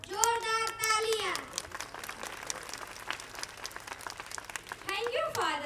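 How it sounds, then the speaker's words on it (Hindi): An audience at a school annual function claps in scattered, moderate applause through the middle of the clip, with amplified speech over a microphone before and after it. "जोरदार तालियां।"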